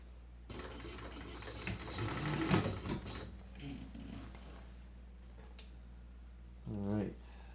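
A sewing machine stitches a snowsuit leg cuff in short, close whirring bursts with quiet pauses between them, and a person talks over part of it.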